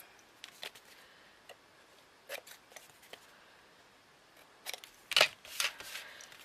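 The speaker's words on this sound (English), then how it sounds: "I'm just going to snip that off" Scissors snip paper while an origami star box is made, giving a few sparse, close, crisp cuts separated by quiet pauses, with a louder cluster of snips near the end.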